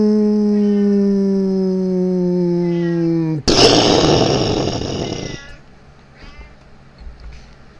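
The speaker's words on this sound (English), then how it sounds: "I got a cat over here that's meowing" A cat meows in a long, loud drawn-out call close by, with a harmonic tone that is cut off by a sudden burst of noise before a quieter stretch follows.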